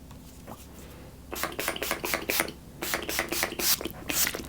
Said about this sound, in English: I'm just gonna mist my face with the Urban Decay All Nighter.